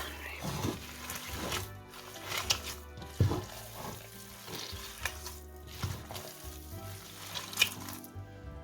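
Minced meat for chapli kebab is squished and kneaded by hand with coriander and spices, giving wet squelching and slapping sounds in an uneven rhythm, close and moderately loud, with no voices.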